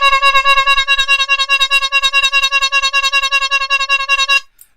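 A loud, rapidly warbling electronic siren with a bright, rich harmonic tone, pulsing steadily for several seconds before cutting off abruptly.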